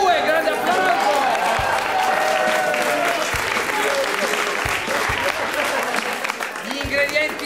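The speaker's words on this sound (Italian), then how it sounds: "Due dolci, due, grande applauso." Audience applause at a gathering, a dense, lively burst of many hands clapping close by, with chatter and a few cheers mixed through and faint voices underneath, holding steady before thinning slightly at the end.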